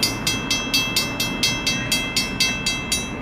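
Eastbound Norfolk Southern freight train passing, a steady clickety-clack of wheels over rail joints repeating about four times a second over a broad rumble, loud and close.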